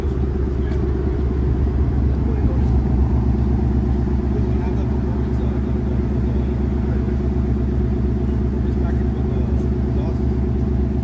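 A 2024 Ford Mustang GT S650 cruising on the road, its engine a loud, steady low rumble droning continuously inside the cabin, with people talking over it.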